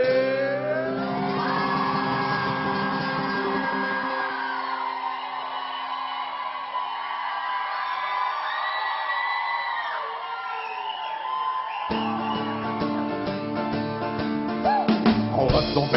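A crowd shouts and cheers in response to a performer's call, a loud sustained roar of voices with whoops rising and building toward the end, music playing alongside.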